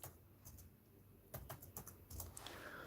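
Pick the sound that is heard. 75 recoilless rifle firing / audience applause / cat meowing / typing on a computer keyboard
typing on a computer keyboard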